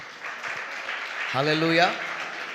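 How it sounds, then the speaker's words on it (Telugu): A congregation claps steadily at a whole-night Christian prayer meeting, a soft, continuous patter of applause that runs throughout while a voice calls out over it partway through. "యేసయ్యకు ఒకసారి గట్టిగా చప్పట్లు కొడదామా?"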